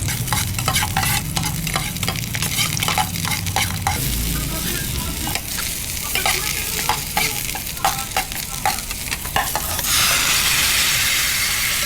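Garlic fries in hot oil in a pan, a bright crackling sizzle broken by repeated scraping and clattering strokes from stirring, ending in a steadier hiss.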